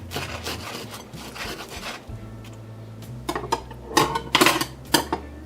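A knife and fork cut into a vegan fried egg on a plate, with scraping cutlery strokes and rubbing, then a cluster of clinks and taps against the dish, close and fairly loud, with no talking.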